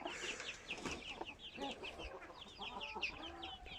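Several chickens cluck and chatter together nearby, quiet overlapping calls in a dense busy stream with no pauses, as if gathered around soaked bread at feeding time.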